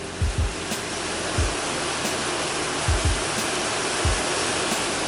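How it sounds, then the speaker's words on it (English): Heavy rain pours outside as a dense, steady hiss that fills the whole clip, loud and unbroken, with a few dull low thumps scattered through it. "it was pouring, and here it comes"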